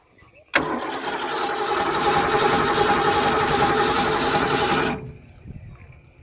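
A Supra Sunsport boat engine cranks over during a cylinder compression test, a loud, steady rhythmic churning of the starter that runs for about four seconds and then cuts off abruptly, with faint movement afterward.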